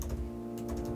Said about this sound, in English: Oh my god, my typing today.